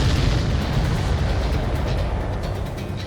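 A missile strikes its target in the Ace Combat 7 flight game, a loud, continuous rumbling blast with heavy low-end roar that holds steady for about three seconds and fades only slightly at the end.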